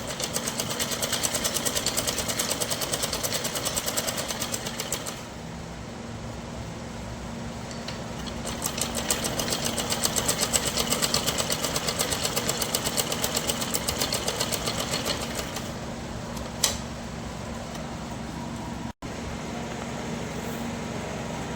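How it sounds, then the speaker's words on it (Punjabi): Sewing machine running steady rapid stitching runs while sewing a double seam on a salwar, a close mechanical whir that pauses briefly mid-way before resuming, with a small click near the end. "ਮੈਂ ਤੇ ਡਬਲ ਸਲਾਈ ਲਗਾਉਂਗੀ"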